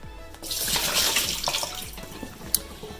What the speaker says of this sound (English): Let me drain out the water.